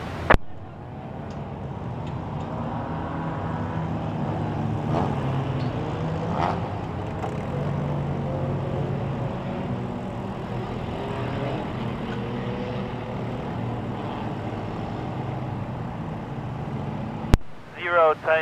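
Four-cylinder mini stock race cars roll out onto Merrittville Speedway for a heat race, a steady engine drone and rumble holding throughout with a busy speedway crowd and track announcer voice underneath, ending with a sharp clack.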